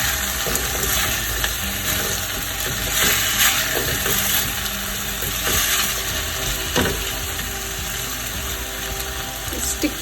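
Taro root (arbi) fries in a pan while being stirred, giving a steady sizzle with scraping and clinking stirs throughout, close and fairly loud, with no speech.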